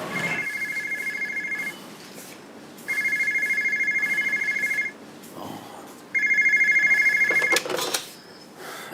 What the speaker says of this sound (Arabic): اهو بيرن.